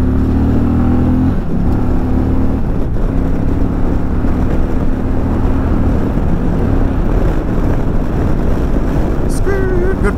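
A 2020 Indian Challenger Dark Horse motorcycle on the highway, its throaty engine droning loud and steady at speed with heavy wind rush, rising in pitch as it accelerates near the end.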